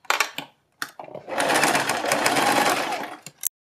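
A sewing machine runs a straight seam in one steady two-second burst, preceded by a few short clicks and taps of handling the fabric, close and fairly loud, with no talking.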